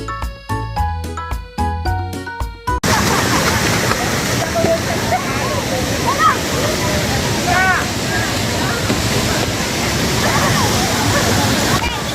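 After a short burst of music, the Palasdari waterfall roars steadily and loudly, a dense, continuous rush of falling water with voices of visitors talking and calling over it.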